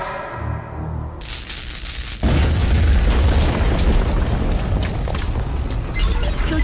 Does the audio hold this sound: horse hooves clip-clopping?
no